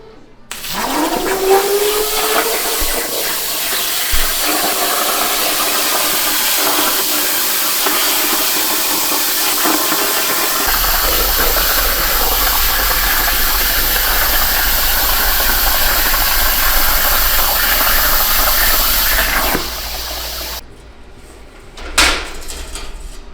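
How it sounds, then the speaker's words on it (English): A plasma cutter slices through a metal cover for a sprayer upgrade, giving a steady loud hiss and roar for about twenty seconds, with a deep hum joining halfway through, then stopping abruptly, followed by a few short clunks. "we're gonna get this out on a plasma cutter"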